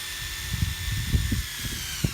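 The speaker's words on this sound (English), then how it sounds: "Hadley, show us how you drill these guys." A power drill whirs in several short bursts, driving screws one after another into Hardiplank siding, with a steady high hum underneath.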